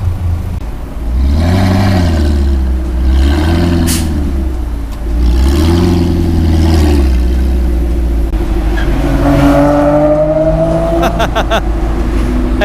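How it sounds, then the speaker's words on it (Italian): A rotary-engine car with a manual gearbox and an open exhaust at a JDM and supercar meet, revving loud and close in repeated rising and falling bursts, then climbing through the gears. "Ed è arrivato anche un rotativo. Manuale! E rigorosamente con lo scarico aperto."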